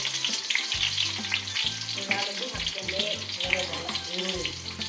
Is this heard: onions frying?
yes